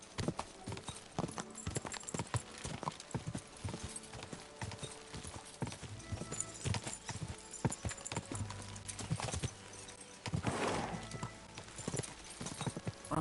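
Rapid clip-clop of horse hooves galloping at a steady rhythm in the video game Kingdom Come: Deliverance II, with game-like ambience and a brief whoosh near the end.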